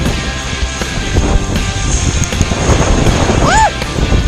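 Strong wind gust roaring steadily into the microphone during a blizzard on a ski slope at Ski Beech, a continuous loud buffeting rush with no pause.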